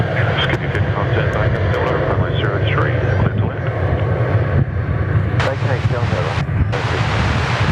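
An Airbus A320 jet airliner flying at Perth Airport makes a steady, loud engine roar mixed with wind noise. Faint radio chatter and voices sit under it.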